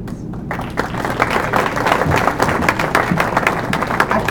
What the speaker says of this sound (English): it's nice to have the clapping.